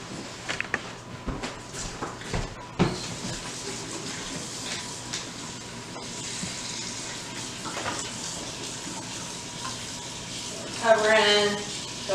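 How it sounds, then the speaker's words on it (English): Tap water runs steadily into a pot of big chopped potato chunks at a kitchen sink, a continuous splashing gush with a voice talking over it and a brief bubbling surge near the end. "We're gonna cover these potatoes fully with water. So we'll just do this at the sink."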